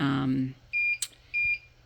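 Two short high-pitched electronic beeps from a Siser Juliet cutting machine, evenly spaced, following a voice that fades out just before them.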